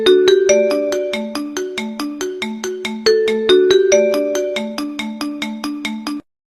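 A Huawei phone ringtone plays a bright, loud, plucked-tone melody of rapid evenly spaced notes, running through its short tune twice in about six seconds before stopping abruptly, with no talking.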